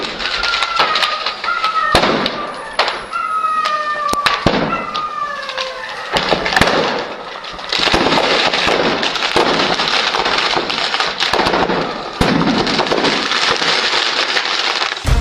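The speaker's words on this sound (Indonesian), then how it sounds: "tembakan dilepaskan ke udara." Repeated sharp gunshots crack into the air in Lebanon in a ceasefire celebration, in irregular bursts, some rapid-fire, over a loud, continuous background of crowd noise and whistling tones.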